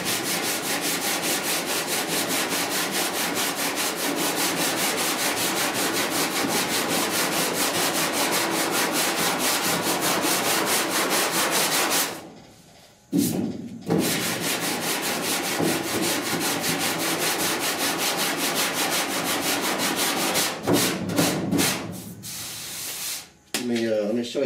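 Sanding block scraping over body filler on the rear cab panel of a 1966 Ford F100 truck, steady rhythmic rasping strokes heard close, with two brief pauses.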